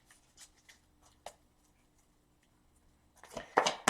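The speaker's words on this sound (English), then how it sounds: "2 more cards and 2 more shuffles." Tarot cards are shuffled by hand, with a few soft, faint taps early on, then a louder, close burst of riffling and flicking at the end.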